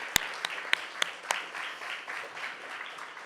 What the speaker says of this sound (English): Let's give Vince a round of applause.